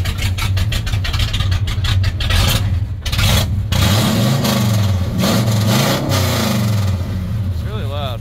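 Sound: 1984 Dodge RAM D150 truck engine idling loudly

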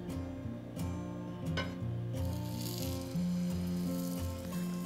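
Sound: bread slice dipped in besan batter frying in a pan

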